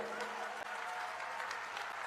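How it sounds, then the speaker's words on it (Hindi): Crowd applauding at a political rally in Kota, a steady, dense wash of clapping filling the whole moment at even loudness, with faint crowd murmur beneath. "जोर से बिरला जी के लिए ताली बजाइए भाई।"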